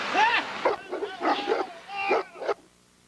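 An American Bulldog barks and whimpers close by in a quick run of high yips and whines that cut off abruptly.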